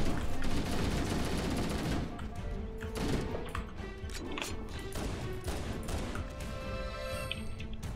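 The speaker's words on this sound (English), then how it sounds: "This guy's shooting me with a fucking needler." Needler fire comes from Flood-infected marines during a legendary-difficulty Halo: CE battle: dense, rapid, nearly continuous gunfire with crashing impacts, loud and close throughout.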